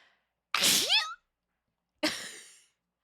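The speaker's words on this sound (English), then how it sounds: "I'm gonna sneeze." Two close, sharp sneezes about a second and a half apart, the first with a wheezy rising squeal, the second a quick airy burst.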